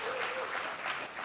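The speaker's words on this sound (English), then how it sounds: "Please give him a round of applause." Attendees at a business council breakfast give a round of applause for a mayor, a brief, even burst of many hands clapping together at moderate volume.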